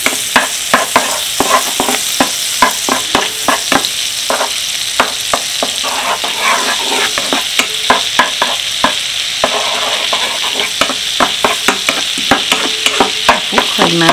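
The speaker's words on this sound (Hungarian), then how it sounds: "Kevés vajat és kevés olajat itt fellevítek, egy kereszt fokhagymával." Garlic sizzling in a pan of heated butter and a little oil, with steady frying crackle and repeated stirring scrapes throughout, close and fairly loud with no talk.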